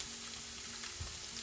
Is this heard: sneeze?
no